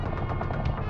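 Rapid machine-gun fire, a steady fast train of muffled shots throughout, fairly quiet and distant-sounding.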